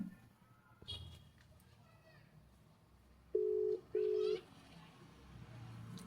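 A phone call's ringback tone sounds as two steady, evenly spaced beeps, clear over faint background chatter and children's voices.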